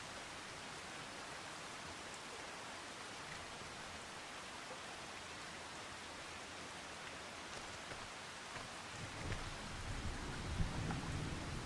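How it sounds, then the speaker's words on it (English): Quiet steady rain hiss in Farming Simulator 25, with a low thunder rumble building in the last few seconds, no voices. "Boy, it's an awfully clear sky for thunder and rain."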